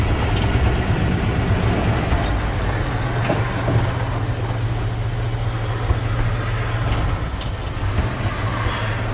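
A 1951 Ford F1 with a stock flathead engine idles steadily nearby, a low, smooth, even rumble with little variation and no talking over it.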